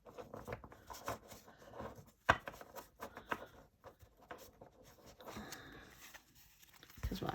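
A tarot card deck being shuffled by hand, giving soft papery riffles and patters with scattered sharp taps, close and fairly quiet, with no talking.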